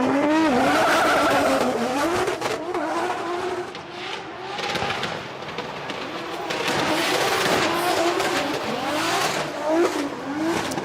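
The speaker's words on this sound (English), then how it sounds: "As Benet comes down the hill, absolutely full tilt, puts that car right to the edge of the circuit, flicks it big angle as he holds onto it" A 2JZ-powered Toyota GT86 drift car charges downhill at full tilt on a race circuit during a drift competition qualifying session, engine roaring loudly with continuous tire squeal and skidding as it holds a big angle.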